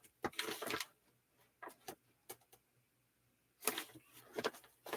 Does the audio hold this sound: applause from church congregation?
no